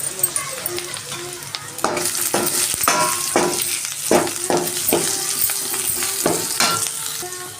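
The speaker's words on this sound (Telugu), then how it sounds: "బాగా వేగిపోతుంది కదండి." Crushed raw garlic frying in an oil-filled pan, a steady sizzle with repeated stirring scrapes and light clinks of a utensil against the metal, close and fairly loud, with no talking.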